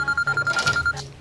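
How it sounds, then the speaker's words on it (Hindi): A phone rings up close with a steady, rapidly pulsing electronic tone that keeps repeating before cutting off, followed by a brief hiss. "सैम अगर मैं तेरा फोन काट रही हूँ तो बार बार क्यों फोन कर रहा है?"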